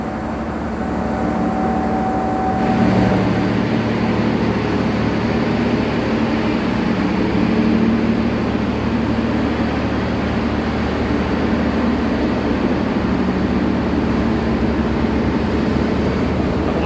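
Steady rumble of a KA Gumarang passenger train hauled by a CC 206 diesel locomotive at night, heard from inside or beside the carriages as continuous low drone and rolling noise with a faint whine early on.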